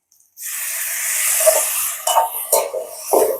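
Sliced tomatoes hitting a hot pan, setting off a loud, close sizzle that starts abruptly and hisses steadily, with a few sharper bursts of spatter near the end.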